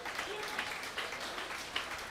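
Quiet, distant applause from an audience keeps going after a song. The soft, even clapping carries on at a low level with faint voices mixed in.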